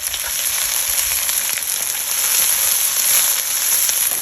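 Onions fry in oil in a Lodge wok set over a Weber charcoal grill, a loud, continuous crackling sizzle with a bright hiss that holds steady throughout, no voices.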